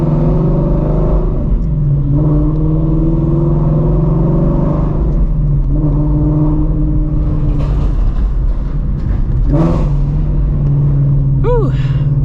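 A straight-piped Ford Shelby GT350 revs hard in a city street late at night, its deep exhaust rising and falling through several loud, close throttle blips over a steady idle rumble, with someone talking over it.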